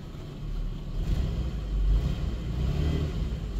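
A 2002 Toyota Highlander with an automatic transmission that will not engage reverse, its engine revving in reverse while the car stays still: a low, close rumbling drone that swells to a peak midway and then holds, with no voices.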